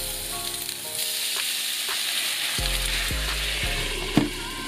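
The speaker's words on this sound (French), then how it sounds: "pour les gyoza, je les laisse à peu près 1 minute jusqu'à ce qu'ils soient bien dorés. Et ensuite je vais ajouter un peu d'eau." Gyoza fry in a pan with water added, giving a loud, continuous hissing sizzle that swells and spits near the end, over a faint tonal background, with no voices.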